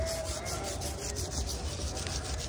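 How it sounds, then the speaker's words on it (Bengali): A leaf rubbed briskly over a fresh cucumber outdoors to scrape off its prickles, a continuous rough scraping close by with rhythmic strokes, no voices. "এইভাবে ঘষে কাটাটা শেষ করে দিতে হবে"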